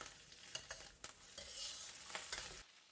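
Tofu, mushrooms and minced pickled radish stir-fried in a pan for vegetarian fried kway teow, a steady close sizzle broken by scraping and tapping of the spatula, quiet and with no talking.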